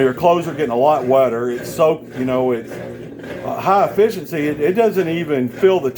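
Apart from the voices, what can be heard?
No everyday noise stands out behind the speech.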